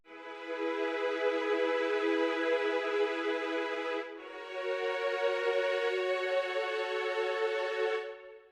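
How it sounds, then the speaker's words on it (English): A virtual orchestral violin section sustains long, lush legato notes, one held chord swelling for about four seconds, a brief dip, then a second sustained chord, smooth and continuous with no talking. "here we have the violin section, which is the long sections I'm going to play here"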